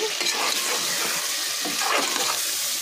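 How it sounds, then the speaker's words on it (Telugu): Mutton biryani masala fries in a pan with a steady, close sizzle, with soft scraping and clinking from stirring throughout. "ఇప్పుడు బాగా వేయించి"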